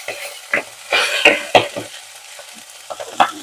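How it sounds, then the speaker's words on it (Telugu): Fenugreek seeds frying in hot oil in a pan, with a soft sizzle broken by intermittent stirring scrapes and clinks of a spoon against the pan, close and moderately loud. "చూసారా ఎట్లా వేగుతున్నదో మెంతి."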